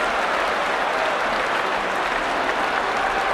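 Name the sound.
sumo arena audience applauding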